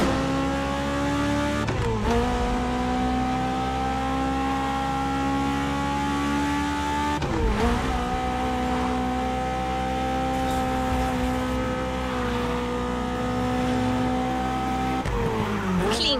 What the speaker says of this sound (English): when you get behind the wheel of a 911